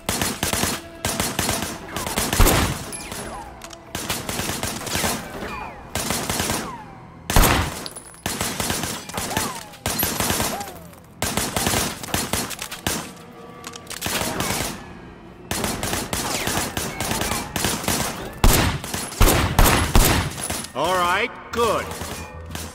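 Gunfire in the open-world game Sleeping Dogs: long, dense bursts of automatic fire and single shots that keep repeating for many seconds with brief pauses, loud and close, with someone speaking in between.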